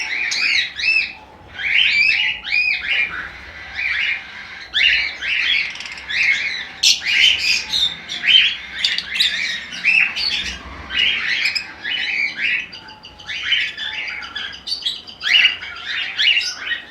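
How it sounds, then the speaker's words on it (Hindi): Breeder lovebird pairs, Lutino and Albino types, chirp and squawk together in a dense, continuous chorus of sharp, high calls. The calls are close and loud, with no talking. "ये लबर्ड का पेड़ है माशाल्लाह"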